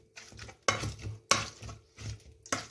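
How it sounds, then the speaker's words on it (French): A potato masher presses cooked celery into purée, giving repeated squelching pushes and sharp clinks against the pot, about four strong strokes in under three seconds, close and alone. "avec un presse-purée ou un écrase-purée, vous allez bien presser le céleri pour le transformer en purée"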